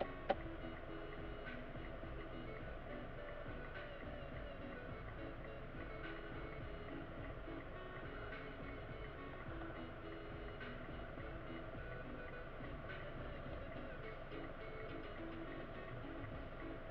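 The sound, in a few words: train passing a railway crossing in Surabaya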